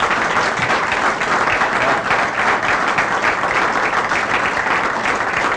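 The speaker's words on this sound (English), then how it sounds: "give a big clap and applause to your family who's supported you all" A graduation audience claps loudly for the graduates' families, a broad, sustained wash of many hands that stays even and unbroken from start to finish.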